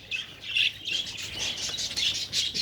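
Pet budgerigars squawking and chattering nearby in a continuous run of shrill, overlapping chirps and squawks, with no speech.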